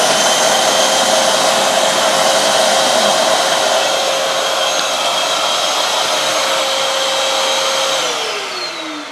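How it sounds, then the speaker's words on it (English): A shop vac vacuum cleaner runs loud and close with a steady high-pitched whine and rushing air, holding constant before its motor pitch drops as it begins to wind down at the end. "Okay, I've turned the vacuum back on."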